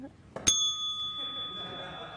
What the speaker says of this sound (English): Where you press the bell and then you have to go...